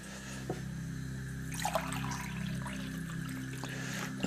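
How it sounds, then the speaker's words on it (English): Spring water poured from a container onto a pinch of saffron in a home kitchen, a faint close trickle and splash that picks up midway, heard alone at low level. "as soon as you add the spring water to the saffron"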